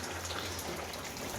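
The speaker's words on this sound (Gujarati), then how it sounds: "હવે આ થઈ છે જો વરસાદ ચાલુ." Steady monsoon rain falls continuously, a dense even hiss of drops with a low rumble underneath and no voices.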